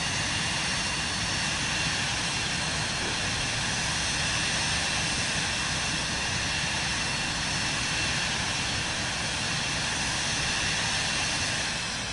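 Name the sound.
aircraft flying in Microsoft Flight Simulator 2024 video game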